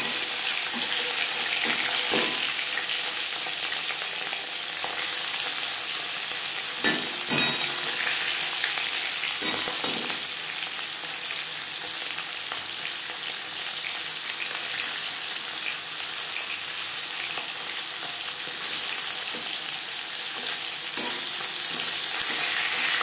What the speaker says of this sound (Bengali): 4 চামচ রিফাইন্ড অয়েল গরম করে নিয়েছি। এবার দিয়ে দেব ম্যারিনেট করে রাখা মাছ।